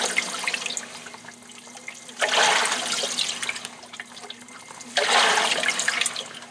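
Speed Queen washing machine washing a blanket: a steady churning, sloshing water rumble with two louder surging swells of water a few seconds apart, close and without speech.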